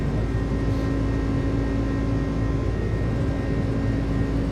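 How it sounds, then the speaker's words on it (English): Airliner engines of an iniBuilds A300 spooled up to takeoff power in Microsoft Flight Simulator, a loud, steady broadband roar with a low hum, continuous and unchanging, with no voices. "Takeoff power set."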